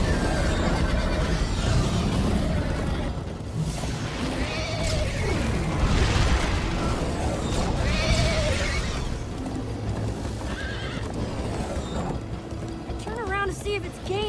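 A horse in the video game Minecraft Story Mode whinnies and neighs with a galloping rhythm during a chase, loud and steady throughout, with voices talking over it.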